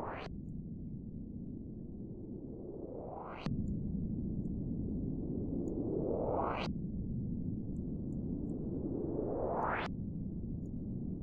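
A distorted synthesizer tone in Reason sweeps upward in three long rising swells, each ending in a sharp bright peak before dropping back to a gritty low drone.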